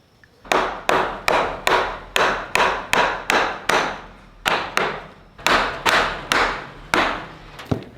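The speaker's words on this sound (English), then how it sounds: "This is where the barn hammer comes into play" A barn hammer drives nails into the wooden nesting boxes of a chicken coop, with about fifteen sharp, close hammer blows in a steady rhythm and a short pause midway.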